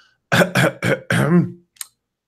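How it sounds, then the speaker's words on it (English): A voice makes four quick throaty cough-like bursts close to the mic, followed by a faint short click, then silence. "I do the cough noise"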